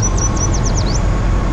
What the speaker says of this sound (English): I heard some birds up there, but I'm not sure what kind they are.